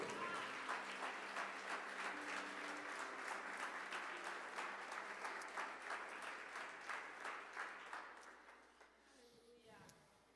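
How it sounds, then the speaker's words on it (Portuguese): A church congregation applauds during a Sunday service, a dense wash of many hands clapping at a distance in a reverberant hall, fading out near the end. "Dê um aplauso a Jesus, por favor"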